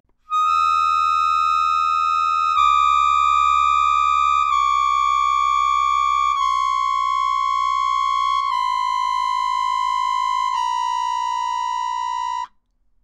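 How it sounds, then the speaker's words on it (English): Sustained reedy melodica tones hold in a descending series of steps, with a deep low difference-tone hum beneath that shifts as the notes change, loud and steady. "It's really something to hear a tone this deep coming out of an instrument like the melodica."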